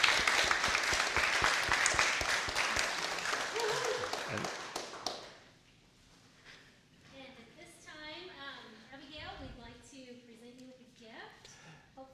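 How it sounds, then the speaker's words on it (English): A congregation claps at a weekly worship service, a dense burst of applause with cheering for about five seconds that cuts off abruptly, followed by people talking. "Let's give them a round of applause."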